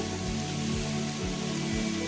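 Steady rain in the video game Minecraft, an even wash of hiss with periodic low thumps underneath, constant and unbroken throughout.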